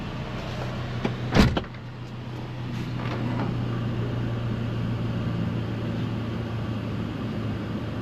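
A car drives along at steady speed with a low, even engine and road hum inside the cabin, and a short mechanical whir and clunk near the start, with no one talking.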